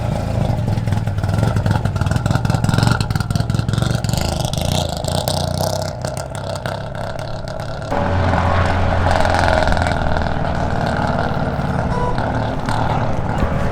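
An old beat-up car's engine running rough on only two of its four cylinders, a loud continuous uneven drone with a shift in pitch and level midway, heard close with no clear voices over it.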